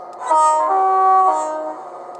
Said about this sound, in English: F24 is another horn alternative.